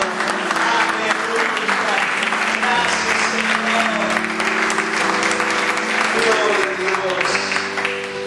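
A church congregation breaks into loud, sustained applause that runs steadily throughout, mixed with crowd noise and music-like tonal bands underneath, with voices audible in the mix.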